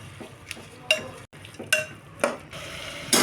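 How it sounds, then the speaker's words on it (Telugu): Salted rice and vegetables for vegetable biryani are mixed in a pot, with a few sharp spoon scrapes and clinks against metal over a faint low sizzle, close by. "ఇప్పుడు మొత్తాన్ని మిక్స్ చేసేసుకోండి"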